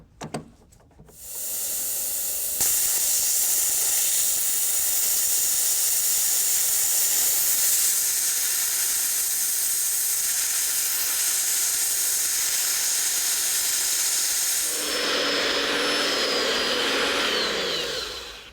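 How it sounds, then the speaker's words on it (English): Plasma cutter blasting rivets out of the frame of a 1934 International pickup truck, a loud continuous roaring hiss held steady for long stretches, with brief starts and stops and a sharper burst near the end. "Now that Stacey's done playing around with the plasma cutter"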